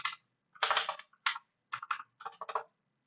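Several short bursts of computer keyboard typing, with clustered keystrokes and brief pauses, while deleting println from Java code; close and clear with no talking.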